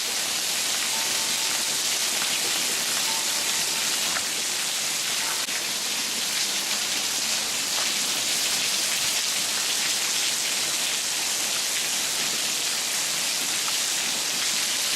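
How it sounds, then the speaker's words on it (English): Heavy rain pours down steadily in a sudden storm, a dense, loud, unbroken hiss of water filling the whole stretch without any voices. "This rain is unbelievable, how it's just pouring down like this."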